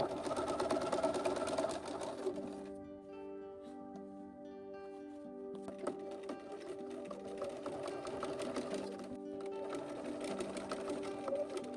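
A sewing machine bastes a lining layer along the top and bottom edges, running steadily and fairly quietly in a continuous whir that slows briefly partway through.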